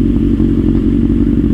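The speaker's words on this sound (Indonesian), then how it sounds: "Gila, buka gas dikit RPM-nya langsung tinggi." Kawasaki Z800 motorcycle engine with the throttle blipped open, a loud, close, deep bassy rumble that holds steady across the short stretch.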